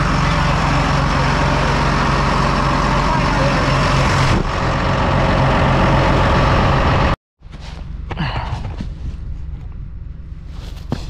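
A loader tractor engine runs steadily on a farm, a loud continuous diesel drone that cuts out abruptly partway through, followed by quieter rattling and handling noises.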